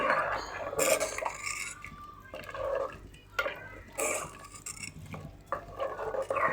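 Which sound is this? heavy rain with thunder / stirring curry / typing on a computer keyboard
stirring curry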